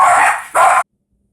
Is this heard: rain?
no